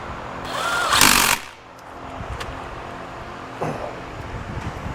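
On a 2019 Massimo T-Boss 410, an impact gun tightens bolts with a loud rattling burst around the one-second mark, followed later by a shorter, fainter hit amid workshop noise.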